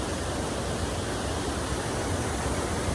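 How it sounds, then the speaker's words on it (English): Waterfall seen on a spring canoe camping trip, a steady, dense rushing roar that holds even and unbroken throughout, with no voices. "What a waterfall!"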